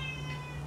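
A cat gives one short, clear meow close by, a brief tonal call with no talk over it.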